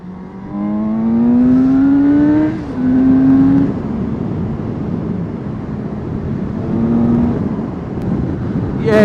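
A Suzuki GSX-S750 motorcycle engine revs up close, climbing in pitch through a rising run, then dips and settles to a lower drone before revving again faintly, with a sharp note at the end.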